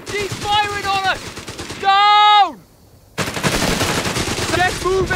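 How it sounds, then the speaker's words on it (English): Rapid SMG and machine gun fire crackles through a Company of Heroes 3 battle, sustained over several seconds with a brief lull, while soldiers' voices shout over the shooting. "Taking a bloody SMG firing on us!"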